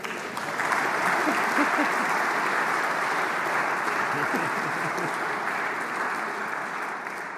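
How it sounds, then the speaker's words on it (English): A large audience applauds at the Women's EHF EURO 2024 handball final tournament draw in Austria, sustained even clapping across a big hall that holds steady throughout, with a voice faintly audible beneath it. "It's not forbidden to applaud."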